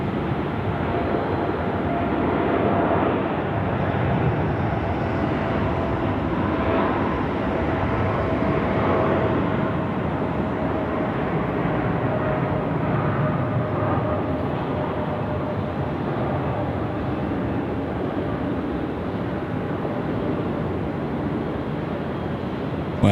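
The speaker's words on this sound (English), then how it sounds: "747-8 now rolling, runway 16 right." A Boeing 747-8 rolls for takeoff on runway 16 right at Sydney Airport, giving a broad, continuous jet roar that holds steady for over twenty seconds at a moderate distance, with no talk over it.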